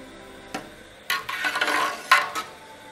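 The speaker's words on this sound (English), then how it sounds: "Now I'm going to stir in the fabric." Fabric stirred through a dye bath at close range: a sharp knock, then a few seconds of splashy, swishing churning with two brief louder surges, no voices.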